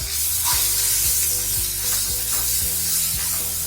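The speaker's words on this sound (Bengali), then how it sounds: "মশলাগুলো একটু ভালো করে মিক্স করে নেবো, মশলাটাকে কষতে দেবো" Ground coriander, cumin paste and cumin powder sizzle in hot oil for a ghugni masala, with steady frying hiss and repeated scraping strokes of a spatula stirring the spices in the pan.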